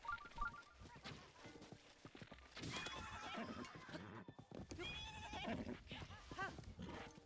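A horse whinnies and snorts in The Legend of Zelda: Breath of the Wild, several rising, wavering neighs heard up close over a steady game backdrop, with hoof clip-clops early on.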